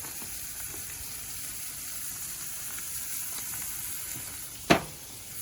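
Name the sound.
burger patty sizzling on the Big Green Egg grill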